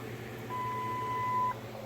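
A Ford Ranger's alarm sounds a single steady electronic tone for about a second, thin and constant, over a low background hum, then cuts off abruptly.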